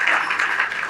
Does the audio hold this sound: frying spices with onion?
no